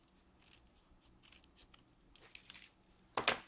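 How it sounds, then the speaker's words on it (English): Scissors snip through paper while cutting long stems for egg flowers on an Easter card; faint, scattered rustles lead up to one loud, close cut near the end, with no voices. "Just cut this out."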